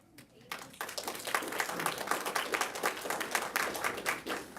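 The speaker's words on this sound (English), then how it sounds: "Please refrain from clapping" An audience at a city council meeting breaks into a short burst of steady, moderately loud clapping in an indoor room, with a voice audible underneath.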